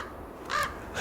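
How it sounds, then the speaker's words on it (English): A crow gives a loud, harsh caw close overhead, then a second call starts right at the end, with quiet background between the calls. "Those crows are on top of my head."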